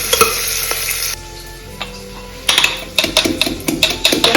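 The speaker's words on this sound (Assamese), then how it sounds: "তাৰপিছতে কাটি ৰখা পিঁয়াজখিনি দিম। এই পিঁয়াজখিনি ভালদৰে ফ্ৰাই হয়" Chopped onions fry in a pan with bay leaf, a loud steady sizzle broken by sharp scraping and clanking strokes of a spatula against the metal, growing busier in the second half.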